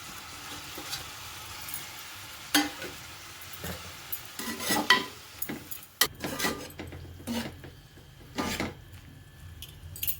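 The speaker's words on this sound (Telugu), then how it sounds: "క్యాలీఫ్లవర్ మగ్గిందండి టమాటా వేసేద్దాం" Tomato and cauliflower sizzle in a pan as they are stirred, a soft crackling fry broken by repeated sharp scrapes and clinks of a spoon against the metal.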